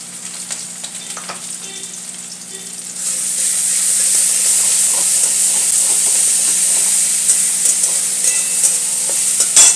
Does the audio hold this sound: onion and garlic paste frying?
yes